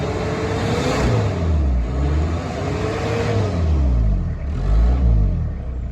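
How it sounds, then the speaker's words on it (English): A Mitsubishi Pajero 2800 diesel, run after sitting unused for years, revs up and falls back in repeated loud waves of rumbling engine noise, with a rising whine from the turbo spooling. "Hear that turbo working?"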